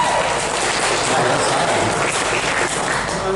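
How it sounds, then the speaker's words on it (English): An audience at a speaker series event breaks into a round of applause, a continuous wash of clapping held for several seconds with faint voices mixed underneath. "I think that's worth a round of applause."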